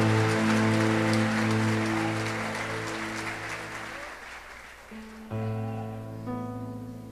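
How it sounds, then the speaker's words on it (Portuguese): A church congregation applauds with dense, steady clapping beneath sustained keyboard chords, then the applause thins and fades as the music carries on alone. "dando a Jesus uma linda salva de palmas, porque Ele é tremendo"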